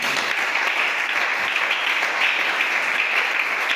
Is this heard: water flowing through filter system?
no